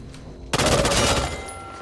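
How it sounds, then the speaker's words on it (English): An Uzi submachine gun in Back 4 Blood fires a rapid, loud automatic burst lasting over a second, then it stops and fades into a faint ringing tail. "Then it's going to be the Uzi, which is one of the default weapons."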